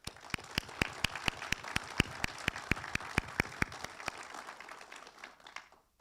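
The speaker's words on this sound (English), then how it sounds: "Please join me in a round of applause for all of our awardees." Ceremony audience at a Marine Corps wounded warrior leadership awards event claps for the awardees, a fairly sparse round of individual sharp claps from a small crowd, steady then thinning out and fading near the end.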